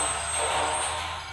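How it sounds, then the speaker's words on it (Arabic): Helicopter lifting off in a video game, a loud sustained whirring engine roar with a thin high whine that eases slightly at the end. "يلا يا هليكوبتر طير يلا"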